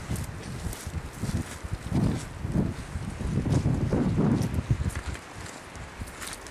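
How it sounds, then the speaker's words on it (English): Strong wind gusts roar across the microphone beside a glacier-fed river, rising and falling in broad buffeting surges with rustling noise and no speech. "Very windy day."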